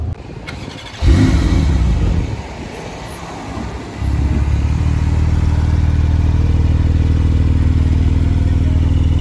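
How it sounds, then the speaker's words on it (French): An Audi RS6 passes close by with a sudden loud engine surge that fades, followed by a steady, lower rumble of traffic or an engine running on. "Dernière RS6"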